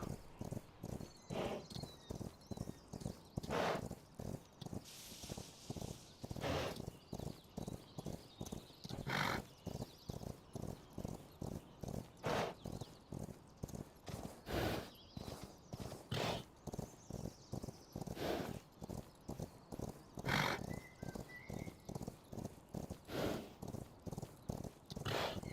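Horses in the survival game Rust, with rhythmic clip-clop hoofbeats repeating steadily throughout and occasional neighs rising above the trotting, close and clear with no talk over them.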